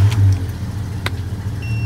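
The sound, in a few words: Jeep engine starting from cold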